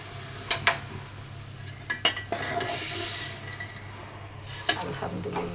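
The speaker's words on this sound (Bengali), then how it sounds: "পুঁই শাক বসিয়ে দিলাম।" Malabar spinach cooking with shrimp in a pan, a low continuous sizzle with several sharp clinks and scrapes of a utensil against the pan, no voices.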